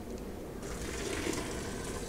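Water pours steadily into a cooking pot for corn kernels, a continuous close splashing rush that grows fuller after the first half second.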